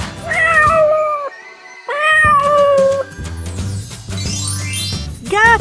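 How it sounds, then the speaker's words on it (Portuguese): Cat meowing loudly and close in two long drawn-out cries, followed by lower rumbling sounds and a short final meow. "Gato."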